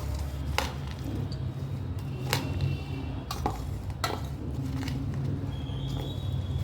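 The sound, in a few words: mixing bhel with coriander in a bowl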